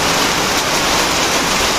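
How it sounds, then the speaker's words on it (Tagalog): Rain falling steadily, a dense close hiss with no breaks and no talk. "Ulan na naman."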